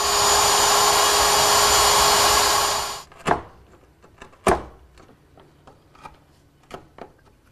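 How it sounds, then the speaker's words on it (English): Router fitted with a 3/8 inch straight bit cutting mortises freehand in walnut: a loud, steady high whine for about three seconds, then the motor cuts off and a few sharp knocks and taps follow. "I'll remove the material with a 3/8 inch straight cutting bit, freehand"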